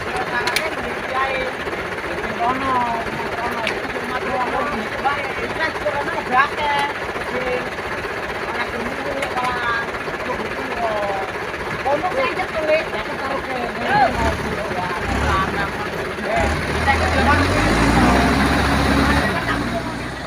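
A heavy tractor engine rumbles and chugs steadily nearby while oil palm fruit is loaded from tractor to truck, growing louder toward the end, with people talking over it.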